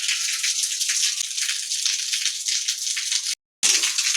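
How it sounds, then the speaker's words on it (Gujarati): Steady hiss of rain pattering continuously, fairly close, with a brief dropout near the end before it resumes. "આ વરસાદ તો જો બંધ થવાનું નામ જ નથી લેતો"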